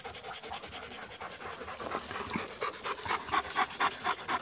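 Farm dogs panting in hot weather, quick rhythmic breaths close by with some scratching, growing louder and more insistent toward the end.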